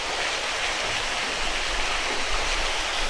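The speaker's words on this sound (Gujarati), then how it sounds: "જો ઝરણું છે આપણને દેખાઈ રહ્યું છે અત્યારે" A stream flows through a river canyon at Kadiya Dhro in Kutch, giving a steady, even rush of water with no breaks.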